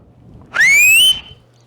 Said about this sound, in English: you can just whistle and you'll get their attention